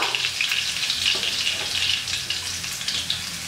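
Crushed skin-on garlic cloves and a sprig of curry leaves frying in hot oil for a South Indian snack mixture, giving a steady, close, continuous crackling sizzle that holds at an even level throughout.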